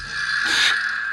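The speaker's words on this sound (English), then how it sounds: "That's the sound of a Vibroslap." A single rattling buzz, a quick dry clatter that swells and fades in about a second.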